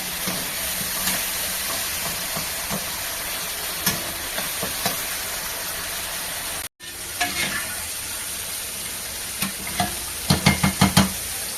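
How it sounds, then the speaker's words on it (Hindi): Tomatoes cook in a pan with a steady close sizzle and hiss, broken by occasional stirring scrapes and a quick series of spoon taps near the end. "टमाटर गलने तक हमें पकाना है।"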